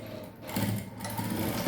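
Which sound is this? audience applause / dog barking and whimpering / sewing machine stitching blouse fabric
sewing machine stitching blouse fabric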